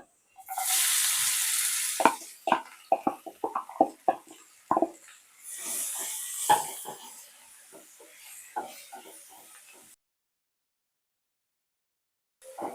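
A spice mix fries with garlic and cumin in oil for a capsicum curry, an opening sizzling hiss followed by sharp stirring scrapes and clinks, close up, before a short silence at the end.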